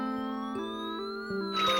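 A fire truck siren wails with steady tones that step up in pitch, loud and continuous, with no other sounds around it.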